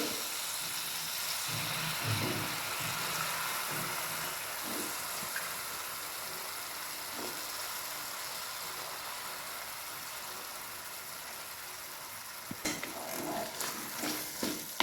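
Washed jujube berries sautéing in oily spice masala gravy in a pan, a steady close hiss of sizzling throughout with a few clatters of stirring near the end.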